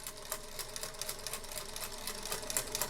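A sewing machine chain-pieces quilt block pieces, running in a steady, fast, close rhythmic chatter of stitches from start to finish with no talking.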